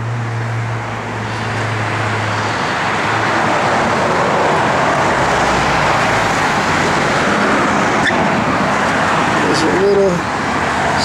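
A 1968 Ford Fairlane 500 drives on the road, with a steady broadband roar of engine and tire noise, loud and continuous throughout and no break.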